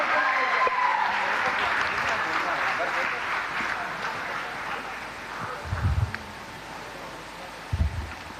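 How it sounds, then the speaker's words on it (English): An audience at a BNI business networking event applauds, a sustained wash of clapping that slowly fades, with a couple of low thumps near the end. "we need a bigger applause, some hoots, some claps"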